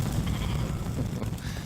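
Sheep bleating in the video game Escape Plan, a short, close, steady cry over a dense low background.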